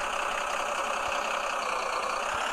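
A tractor hitched to a long trolley idles in a steady, even rumble, with a faint regular knock under the drone and no talking.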